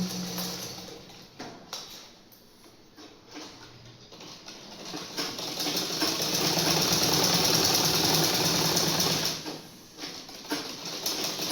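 A sewing machine stitches a seam in a tailoring lesson, with a quiet start and then a sustained, fairly loud whirring run for several seconds before it slows and stops. No one speaks.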